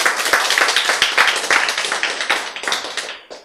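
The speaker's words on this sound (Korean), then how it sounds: "박수!" Audience at a Korean health lecture bursts into brisk, dense clapping that stays loud and steady for a few seconds, then tapers off near the end.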